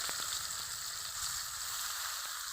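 Chopped onion and tomato fry in hot oil, giving a steady, soft sizzle with faint crackles and a few light stirring taps, heard alone and fairly quiet.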